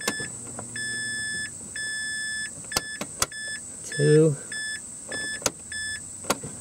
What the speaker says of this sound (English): I can hear it priming